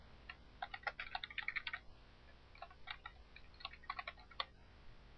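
Bursts of fast keystrokes on a computer keyboard as a street address is typed, quiet and close, in short irregular runs separated by brief pauses.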